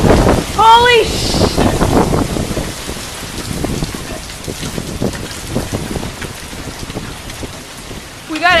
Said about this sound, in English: We got a hailstorm right now here in Phoenix, Arizona.